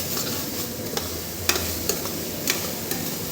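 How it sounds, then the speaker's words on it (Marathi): Salt being stirred into pav bhaji gravy in a pan on an induction cooktop, a steady close scraping and soft sizzle with small clicks of the spoon at irregular intervals. "आता त्यामध्ये सगळ्यात महत्त्वाचा पदार्थ म्हणजे मीठ टाकायचं आहे आपल्याला आणि छानपणे मिक्स करायचं आहे"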